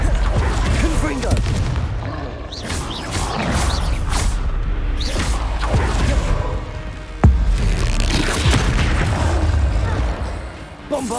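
The Confringo fire spell in Hogwarts Legacy goes off in repeated booming blasts, one with a sharp crack near the middle, amid continuous combat noise with a voice shouting over it.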